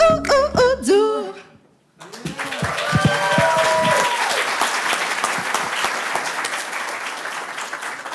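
Applause at an awards ceremony and soirée breaks out after a sung performance ends, a dense sustained clapping from the crowd that fills the room right after the song.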